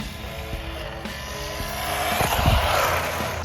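An Arrma Typhon Grom RC boat running at half throttle outdoors on water gives a steady whining motor drone mixed with splashing, rising slightly in loudness partway through, with no talking.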